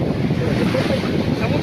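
Surf rolls onto a beach under strong gusting wind that buffets the microphone, a loud, continuous wash of water and wind noise with no clear break.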